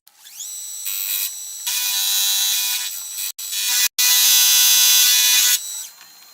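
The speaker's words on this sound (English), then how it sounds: "What I'll do now is turn that over and we'll machine the other side." A milling machine cuts the other side of a small steam chest for a Stuart Turner No. 8 mill engine, whining loudly and steadily with brief drops and two short cutoffs, no talking.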